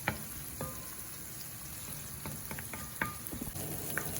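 Onions sautéing in a pan for a beetroot stir-fry give a steady, soft sizzle, with occasional light clicks of a spoon stirring.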